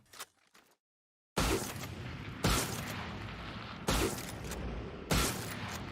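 Marshall sniper rifle from the MagicPunk skin collection in a video game, firing and reloading in four loud, evenly spaced shots, each a sharp boom with a trailing mechanical rattle, after a short quiet gap.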